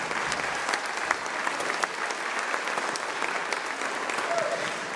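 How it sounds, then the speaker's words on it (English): An audience applauds students at a junior high and high school band concert, steady dense clapping from a crowd filling the whole stretch at an even level. "We give them a round of applause."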